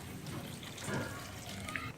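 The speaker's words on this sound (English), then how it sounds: "Add in required amount of water." Water pours steadily into a pot of egg curry, a continuous splashing rush with a faint drip near the end.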